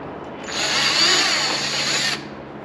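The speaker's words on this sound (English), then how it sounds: "we were drilling holes in her car today" A power drill bores holes into the body of a Cadillac CTS during a carbon front splitter, side skirt and rear spoiler install, giving one loud, close, high-pitched whine of about a second and a half that starts and stops abruptly.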